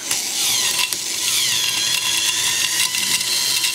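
A Lego and K'nex gear model spins at high speed, giving a continuous loud, high-pitched mechanical whine with a buzzing plastic-gear rattle that holds steady throughout, with no speech.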